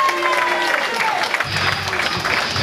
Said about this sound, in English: Big round of applause for a good performance for Dave Thornley